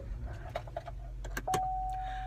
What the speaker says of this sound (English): I gotta turn the fucking car on because I'm in my car.